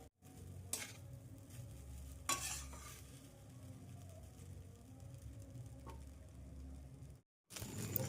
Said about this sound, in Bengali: এইভাবে 10 থেকে 15 মিনিট রাইসটাকে ভালোভাবে ফ্রাই করে নেব।